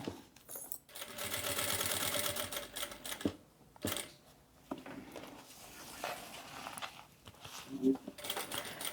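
Sewing machine stitching a holding seam on the reverse side of a baby toiletry pouch, running in bursts with short pauses and a couple of clicks, while someone talks over it.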